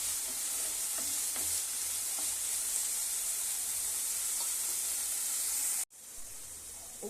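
Green chili, ginger and garlic fry in a pan with a loud, steady sizzle while a spoon stirs through them. The sizzle cuts out briefly, then resumes at a lower level.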